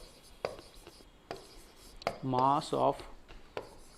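Chalk or marker scratching across a board during a chemistry lesson on moles and electron mass, several short strokes, with a faint background of a classroom and a brief rubbing burst midway.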